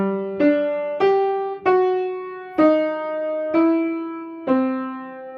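A piano playing the main melody as six clear, well-spaced single notes, each struck firmly and left to ring, close and unaccompanied, with no talking.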